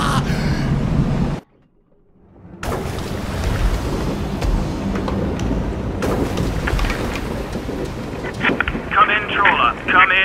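Storm wind and churning sea around a small fishing trawler in the VR game A Fisherman's Tale, a loud continuous roar of gusts and surf that cuts out briefly, then returns and builds with higher splashing toward the end.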